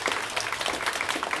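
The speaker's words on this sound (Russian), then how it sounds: "И ваши бурные аплодисменты" Audience applause at a classical music concert, dense and lively clapping that stays loud and even from start to finish.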